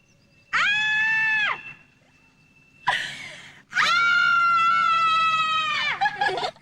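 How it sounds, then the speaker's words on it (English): A person lets out loud, sustained screams in a room: a one-second shriek, a short pause, a brief cry, then a long wail of over two seconds that ends in a few choppy bursts. "What? Scream?"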